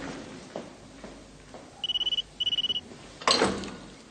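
An indoor telephone rings in two quick trilling bursts, clear and moderately loud over quiet room noise, followed by a sharp thump and rustle.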